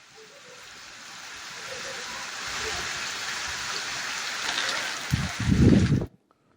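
Steady rain falls in Karnataka as a continuous hiss that slowly builds, then gives a few heavier, louder bursts just before it cuts off abruptly.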